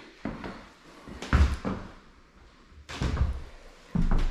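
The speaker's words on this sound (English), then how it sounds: "That was the front door there." Front door of an abandoned house banging and thudding as it is moved, several sharp knocks and slams spaced across a quiet room, heard close with no talking.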